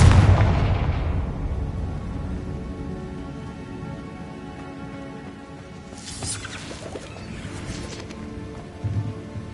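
A Confringo blasting spell goes off in Hogwarts Legacy with a loud, broad burst right at the start that rumbles and fades over a few seconds, followed later by fainter crackling bursts over a low ambient bed.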